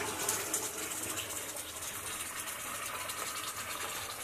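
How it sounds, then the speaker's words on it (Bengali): Meat and its cooking water pour into a hot pan, making a continuous faint rushing, gushing sound with no pauses and no voices. "এবার এই মাংসটাকে আমি ঢেলে দেবো। হ্যাঁ, ঢেলে দিয়ে এই জল শুদ্ধই ঢেলে দেবো"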